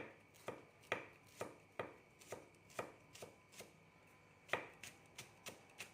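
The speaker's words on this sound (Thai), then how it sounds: "เรามาเตรียมเครื่อง ต้นหอมครับซอย" A knife slices spring onions on a cutting board in quick, even chops, about a dozen sharp close-up strikes in a steady rhythm, with no speech.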